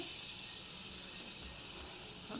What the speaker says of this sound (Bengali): দেখো আলুর বড়াগুলো পুরো ছেড়ে দিচ্ছি